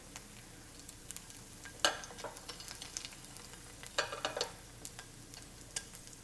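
An egg frying in a pan gives a quiet, steady sizzle with scattered crackling pops, and a few sharper spatters stand out near the start and middle; no one speaks.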